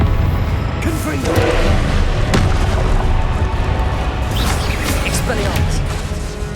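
Confringo spell explosions in the video game Hogwarts Legacy, booming blasts and impacts in a loud continuous combat mix with music and shouted spell-casting voices.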